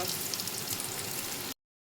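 Soft, even sizzling of bitter gourd frying in oil in a pan, hissing steadily for a moment before cutting off abruptly.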